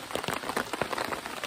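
Rain patters steadily on a camping tent in the backwoods during a heavy thunderstorm, with irregular drops striking close and fairly loud, no voices present.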